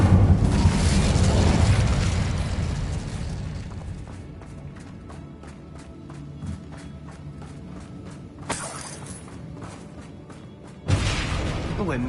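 An Incendio fire spell bursts in Hogwarts Legacy combat with a loud, deep, rumbling blast that fades over a few seconds, followed by scattered sharp clicks and two more sudden loud bursts of noise.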